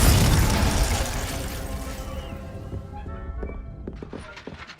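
Confringo explosive spell cast in Hogwarts Legacy: a loud, heavy blast that slowly decays over a few seconds, followed by scattered clattering debris and a final sharp thump.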